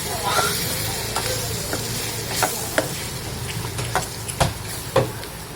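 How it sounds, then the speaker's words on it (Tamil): Steady hot sizzle of chili powder frying in sesame oil for a fenugreek curry, close by, with sharp intermittent clicks and scrapes of a spoon stirring the pan. "குழம்பு மிளகாய்த்தூள் போட்டு நல்ல எண்ணெயிலேயே ஃப்ரை பண்ணுங்கள்."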